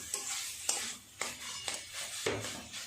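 Spoon stirs potato, chicken and spices frying together in a pan over low gas for a paratha filling: a soft sizzle punctuated by about five distinct scraping strokes, close and quiet, no talking.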